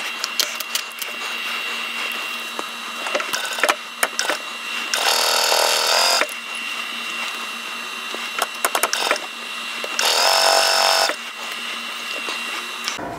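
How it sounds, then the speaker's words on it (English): Juki J150 sewing machine stitching a quilt block seam, two sustained runs of steady mechanical whirring of about a second each, separated by quieter handling clicks and rustle, fairly close and with no talk. "So I'll go ahead and sew this together, and we'll have our first set of units made."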